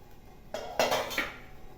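A metal lid comes off a pot of steamed kara kozhukattai with a short clatter and a ringing clink, then a softer tap. All of it is close and brief, with no talking.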